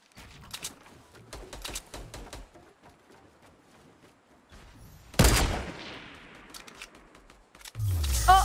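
Gunfire in the Fortnite video game, bursts of rapid shots scattered through the stretch with a loud blast near the middle and a heavy rumbling impact at the end.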